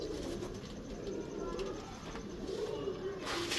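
A breeder's pigeon gives soft, low, repeated coos at close range against steady background noise.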